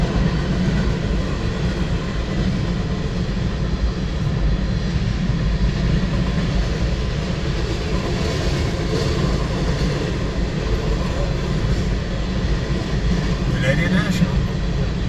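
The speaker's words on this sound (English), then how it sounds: "Still more tank cars." A CSX southbound freight train of tank cars passes through Georgiana, Alabama, as heard from a car nearby. It makes a steady, loud rolling rumble that carries on without a break.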